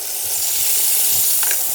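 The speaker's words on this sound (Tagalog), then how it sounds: "Prito lang ng saglit." Marinated pork steak sizzling in a frying pan in a Filipino kitchen, a steady close hiss with a light clink near the end and no talk.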